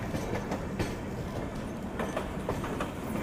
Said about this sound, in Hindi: सामने हमारे दक्षिण एक्सप्रेस का अराइवल हो रहा है